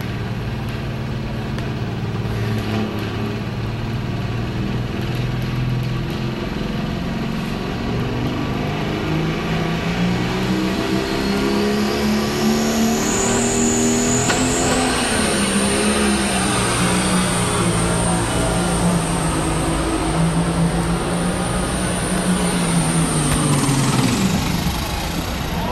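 A pro stock pulling tractor roars loudly and steadily at a 1996 NFMS tractor pull in Louisville, Kentucky. Its pitch climbs and holds through a long pass, then the engine cuts off near the end.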